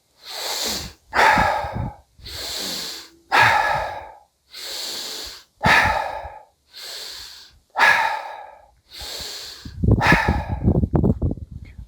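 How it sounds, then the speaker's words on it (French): Alkaline breathwork with a strong inhale through the nose and an exhale through the mouth, heard as a steady series of about nine loud, close, forceful breaths with short pauses, ending in a rougher, noisier exhale. "c'est la respiration alcaline. Pour la faire, on inspire fortement par le nez."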